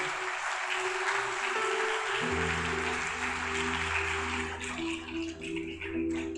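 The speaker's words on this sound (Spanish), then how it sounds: "Dale un aplauso fuerte a nuestro Dios." A church congregation claps steadily and loudly, a dense wash of applause lasting the whole stretch, with sustained music tones rising beneath it partway through.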